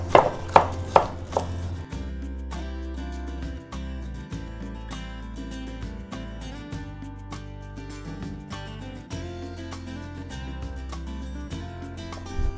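Food is smashed to break it up while cooking an easy chicken pesto pasta. Three sharp, heavy thuds land in quick succession at the start, then steady background music continues alone.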